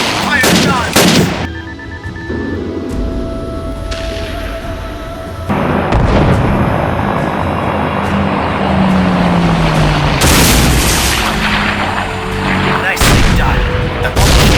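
Fighter jet guns and explosions in a space-combat video game, with sharp close bursts of gunfire, a sustained roar of engines and blasts, and a voice giving commands over the din.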